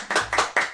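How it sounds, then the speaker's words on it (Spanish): Applause after a prize-draw winner is announced at a real estate event, three quick loud hand claps close by, with no voices. "aplauso. Olga."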